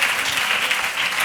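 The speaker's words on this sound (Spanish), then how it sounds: "Un aplauso para Juana y su lupa." A live audience at a tarot congress in Barcelona bursts into steady, dense applause, with clapping filling the room evenly from start to finish.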